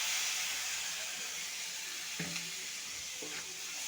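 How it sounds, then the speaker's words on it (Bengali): Spices frying in oil in a home kitchen, cooking for a rui fish curry with taro and potatoes, give off a steady sizzling hiss, with two short bursts of spitting and bubbling as water hits the hot pan. "একটু তেলের সাথে মিশিয়ে একটু ভেজে নেব। একটু জল দিয়ে দিচ্ছি।"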